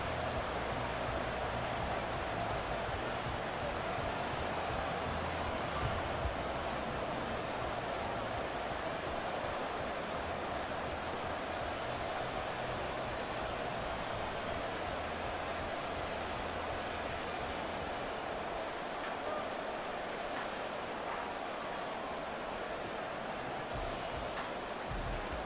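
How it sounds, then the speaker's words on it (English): Steady rain hissing throughout a Madden 24 football game, Los Angeles Chargers at New England Patriots, a constant even wash of falling rain with no voices over it. "The rain set to continue as we are underway in the second half."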